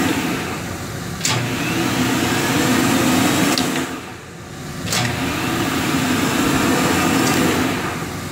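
A Monarch 10EE lathe spindle spins at over 4,000 RPM, giving a steady loud mechanical whir with a rising and falling hum and two sharp clicks, with no talk.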